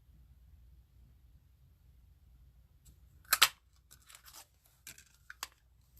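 A 1 1/8 inch scallop paper punch cuts through cardstock, heard as a sharp crunching snap followed by a few softer crinkles and clicks after a quiet start, close and without speech.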